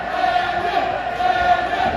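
A wrestling crowd at a CIW Ringside event cheers steadily and loudly, a dense sustained roar filling the whole moment.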